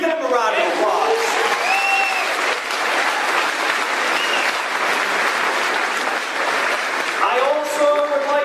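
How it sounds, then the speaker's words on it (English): A high school graduation audience breaks into steady applause for the families, with a voice at the start and end and dense clapping filling the middle. "Give them a round of applause."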